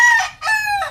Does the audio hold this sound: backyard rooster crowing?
yes